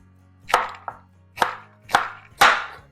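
A sharp knife chops through a head of cabbage for coleslaw on a cutting board, four crisp, close cuts with a smaller tap between, each a quick crunchy thud.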